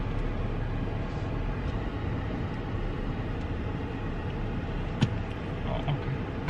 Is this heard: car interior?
yes